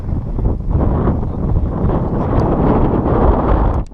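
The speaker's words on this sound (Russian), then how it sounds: "Вот такой вот ураган в Чегеме." Strong squall wind of a southerly storm in Chegem buffets the microphone and tents, a loud continuous roaring rush with gusts throughout and no pauses.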